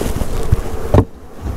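Packaged honeybees buzz loudly up close as they are shaken out into a hive, a dense droning swarm broken by a couple of dull thumps before the sound drops away.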